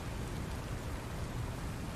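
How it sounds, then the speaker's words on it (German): Steady hiss of rain in the video game Satisfactory, a dense continuous wash of falling drops with a low rumbling undertone, even and unbroken with no voices. "Oh, es regnet."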